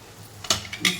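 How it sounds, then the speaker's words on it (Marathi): A lid lifted off a cooking pan of methi and potato bhaji gives two quick, sharp metallic clinks about a third of a second apart in a quiet kitchen. "झाकण काढून घेऊया"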